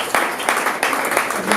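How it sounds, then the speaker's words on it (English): A small audience clapping at a book event, a short burst of several hand claps, moderately loud and close, over a room background. "Come on, Jason Reynolds, you can clap now."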